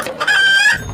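A hen clucks loudly and close by in a short, busy burst of calls with a crowing edge, and no voices are heard.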